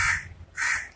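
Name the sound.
crow cawing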